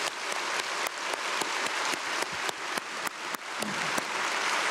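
A church congregation claps in applause at a dawn prayer service, dense continuous hand-clapping that rises in regular surges, fairly close and loud, with no talk over it.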